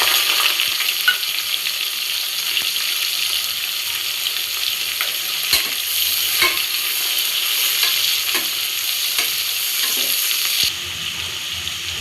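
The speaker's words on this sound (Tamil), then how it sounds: "அதுக்கப்புறமா நறுக்கி வச்ச வெங்காயத்தை போட்டுக்கலாம்." Continuous loud sizzling of chopped onions frying in hot oil for tomato rice, with repeated scraping knocks of a utensil stirring the pan throughout.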